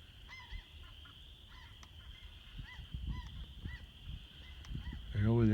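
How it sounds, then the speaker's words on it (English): A goose honks in the distance across an open pasture, a few faint honks spread over the clip above low wind and ambient rumble, with a louder burst near the end. "I heard a goose."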